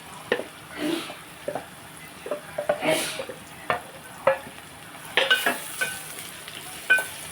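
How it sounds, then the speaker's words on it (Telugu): Onions and mango pieces fry in a pan, with soft sizzling broken by repeated scraping stir strokes at an uneven rhythm, close and fairly quiet. "ఉల్లిపాయ మగ్గింది కదా మనం మామిడి దుంపలు కూడా వేసేసుకున్నాం"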